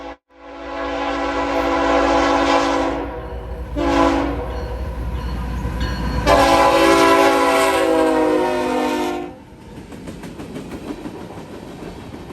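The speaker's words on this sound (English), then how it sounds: "This time an odd sight with a Kansas City Southern Gevo leading the way with an NS SD70 ACC trailing in the second position" A freight train led by a Kansas City Southern GEVO with a Norfolk Southern SD70ACe trailing passes close by, sounding three loud horn blasts, long, short, then long, over a steady engine rumble that fades to rolling wheel noise.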